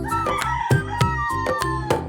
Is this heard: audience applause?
no